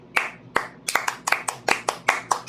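A few people clap their hands along to a shared beat in a podcast room, about eight sharp, fairly steady claps over a couple of seconds, close and loud, with no talking.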